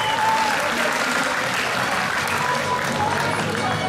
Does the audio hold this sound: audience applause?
yes